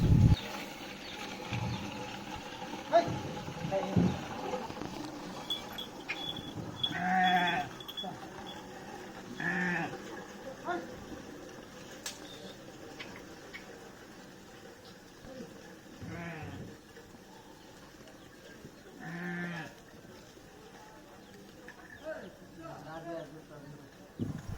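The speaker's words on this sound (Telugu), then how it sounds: "ఇక పొద్దుగాల పోయిన ఎడ్లు, ఆవులు, మేకలు, గొర్రెలన్నీ సాయంత్రం కాగానే రిటర్న్ అయినాయి." Bullocks, cows, goats and sheep come back from grazing in the evening, with scattered bleats and animal calls at moderate distance over a rustling outdoor background, along with voices talking.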